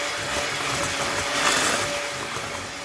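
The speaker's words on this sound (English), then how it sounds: "You're gonna blend that for about a minute." A blender runs steadily, whirring through cake batter of vanilla, citrus zest and egg yolks for an upside-down pineapple cake, a continuous even motor drone with no pauses.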